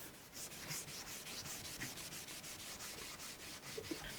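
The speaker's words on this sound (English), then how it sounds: "the last step is to buff it with just a clean, dry cloth to get a really nice, smooth finish" A clean, dry cloth buffs a piece of painted furniture to a smooth finish, making a steady, close rubbing with quick repeated back-and-forth strokes throughout, with no talking.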